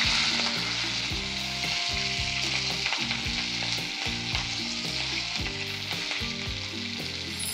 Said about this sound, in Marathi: आता ही छान भाजी आपण परतून झालेली आहे लसूण हिरवी मिरचीमध्ये